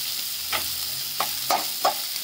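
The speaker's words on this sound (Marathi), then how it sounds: "मिरच्या टाकायच्या, कांदा नरम होईपर्यंत चांगला परतून घ्यायचा।" Chopped onion and green chillies sizzle in a pan as they are sautéed for a Maharashtrian chuchu wild-vegetable bhaji, with a steady close frying hiss and four short scraping stirs.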